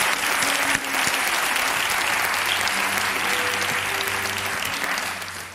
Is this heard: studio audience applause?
yes